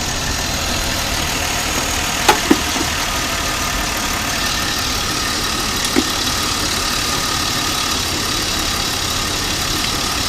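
A 2007 Chevy Impala engine idles steadily during a fuel pressure test, producing a constant, even hum with a couple of faint clicks partway through.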